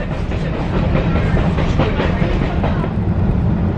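A Grand Canyon Railway passenger train rolls along the rails, with a steady, loud rumble and continuous rhythmic clatter of wheels heard from inside the car.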